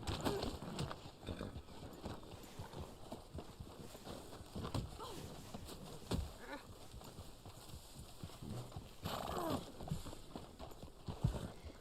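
Hooves of a Black Arabian Horse in the Red Dead Online video game, a faint, steady clip-clop of repeated footfalls, with talking at times over it.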